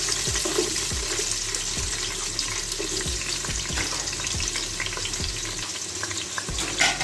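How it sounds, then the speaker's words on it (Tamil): Onions hitting hot oil for masala paneer Maggi noodles: a steady, close sizzle of frying with repeated light stirring taps and scrapes throughout, and no talking. "இப்போ நான் வெங்காயம் போட போகிறேன்."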